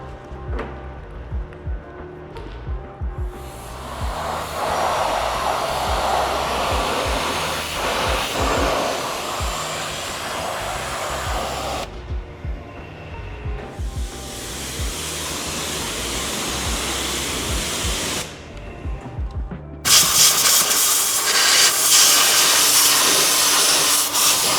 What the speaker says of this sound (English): let's steam clean it off first, so then we have a clean area before we put in the injector